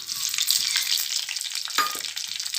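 Fenugreek seeds crackle and sizzle in hot oil in a clay pot, a loud, close hiss that stays dense through the short moment.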